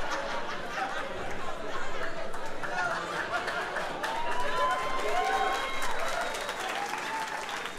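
Loud, steady applause from a comedy club audience in Colombia greeting the next stand-up comedian, with crowd chatter and a few whistles mixed into the clapping throughout.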